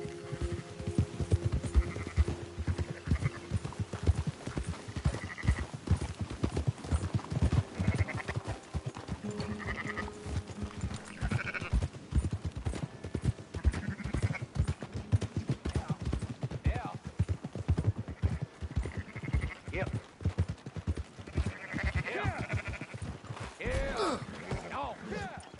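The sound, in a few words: sheep bleating and hooves clopping in a PS4 video game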